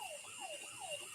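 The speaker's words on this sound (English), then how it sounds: "Someone's car alarm or something." A siren or car alarm goes off nearby, sweeping repeatedly up and down in pitch in a fast wailing cycle, faint and steady with no talk over it.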